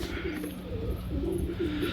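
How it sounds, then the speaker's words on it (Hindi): Pigeons kept for flying contests coo in low, repeated rolling phrases close by, two or three throaty calls over a steady background hum. "कबूतर शायद वापसी आ रहा है"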